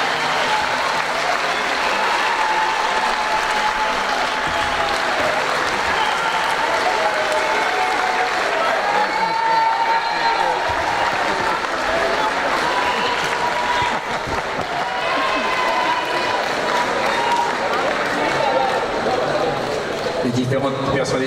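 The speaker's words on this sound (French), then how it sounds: "comment continuer à applaudir, continuer, voilà" An audience applauds at a mayoral election ceremony in Le Gosier, a broad, sustained wash of clapping that carries on for the whole stretch while a voice speaks over it through a loudspeaker.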